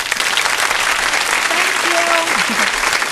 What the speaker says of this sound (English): Bravo, bravo. Round of applause.